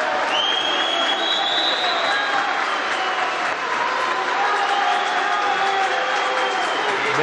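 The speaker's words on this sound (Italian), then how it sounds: "Certamente applauso del pubblico" Home crowd applauding during a Serie A Gold handball match between Fondi and Conversano, a dense, steady wash of clapping with cheering filling the arena for several seconds, with commentary voices mixed in.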